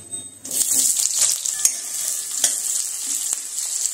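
Chopped onions hit hot oil and burst into a loud, bright sizzle after a brief quiet start, with occasional spoon taps against the pan as the frying continues close by.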